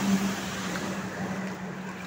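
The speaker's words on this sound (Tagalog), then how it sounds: "Baha ang kalsada ng San Fernando," Flood water covering a street in San Fernando, Pampanga, heard as a steady broadband wash with a faint low motor hum underneath, continuous and moderately close.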